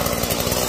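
A Stihl chainsaw that had been flooded, running at full throttle just after starting: a loud, close, rapid buzzing engine rattle, very brief.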